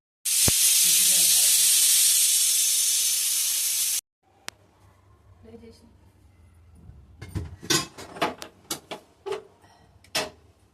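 A loud, steady hiss of a pressure cooker whistle bursts for several seconds, then cuts off, followed by clattering kitchen knocks and clinks.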